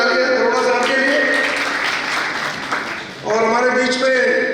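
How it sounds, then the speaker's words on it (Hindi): An audience at a Delhi senior citizens' Republic Day cultural programme breaks into a short burst of clapping for a chief guest, partly under a host speaking over a microphone. "जोरदार तालियां अरोड़ा साहब के लिए"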